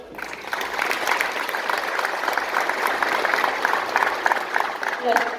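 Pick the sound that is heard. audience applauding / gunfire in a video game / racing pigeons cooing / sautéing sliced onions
audience applauding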